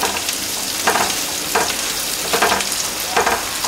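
Onions fry in a pan with a continuous crackling sizzle, close and even. Several louder stirring scrapes come at roughly regular intervals.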